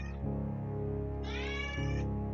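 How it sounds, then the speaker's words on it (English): A cat meows indoors, a rising and falling call of about a second, close and clear over a steady background hum, with no other voices. "That was the cat."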